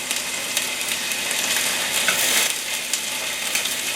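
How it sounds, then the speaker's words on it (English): Shrimp searing in a hot stir-fry pan give a loud, continuous close sizzle and crackle, with scattered sharp pops across the whole stretch and no talking. "And this side we're gonna let them sear for maybe a couple minutes."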